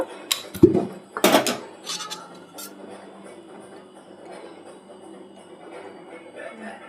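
A pan is set down on a gas stove with a couple of loud metallic clanks and rattles close by, then only faint low handling noise as oil goes in, with no talking.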